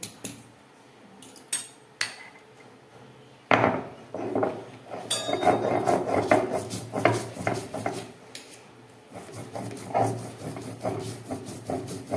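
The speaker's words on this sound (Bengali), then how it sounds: "এবার সর্ষেটা বেটে নেব।" Mustard seeds are ground into a paste with irregular knocks, taps and scraping strokes, fairly quiet and close, with a few sharp clicks before the grinding settles into a steady rhythm.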